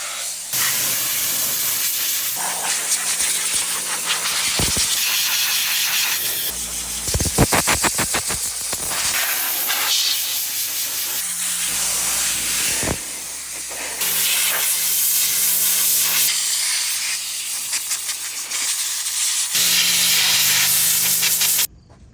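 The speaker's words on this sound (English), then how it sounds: "so I'm going to start the air compressors now" An air compressor blows air to dry a freshly washed motorcycle, making a loud, continuous rushing hiss that surges and drops in bursts, with short pauses between blasts.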